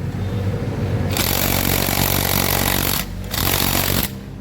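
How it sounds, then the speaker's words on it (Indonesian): JLB 320 impact wrench hammering at a tight rear wheel nut on a Honda Beat scooter, a loud continuous rattling burst that starts after a moment, breaks off briefly, then resumes before cutting out near the end. "Tidak mampu untuk impact JLB 320, berarti untuk murnya ini kencang."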